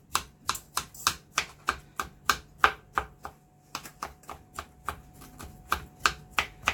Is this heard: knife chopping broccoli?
yes